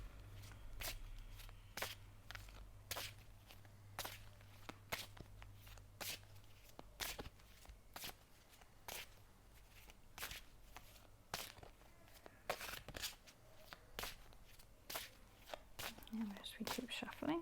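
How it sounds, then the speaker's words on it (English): Tarot cards being shuffled up close, with repeated sharp riffling snaps at a steady pace and a low hum fading out partway through. "Okay, so I'm going to shuffle the cards."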